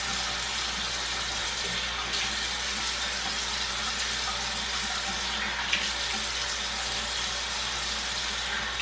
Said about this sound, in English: I'm gonna wet my hair.